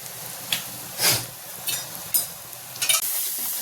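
Food seasoned with ground cumin fries in a pan while a spoon stirs it, sizzling softly under several distinct scraping strokes that come at irregular intervals, with no talking.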